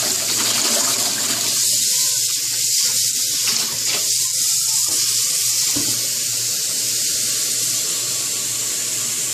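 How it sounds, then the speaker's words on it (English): Water drains from washed crown daisy greens in a draining bowl, a loud hissing, splashing gush that runs continuously with brief dips and trickles. "she's just going to drain out all the water"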